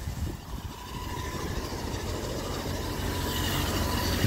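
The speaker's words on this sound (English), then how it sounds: "we're going to turn this on, and you can see the windshield wipers moving" A freshly lubricated Rolls-Royce Silver Shadow windshield wiper motor running, a steady, even mechanical whir that holds constant and grows slightly louder, close by with no voices.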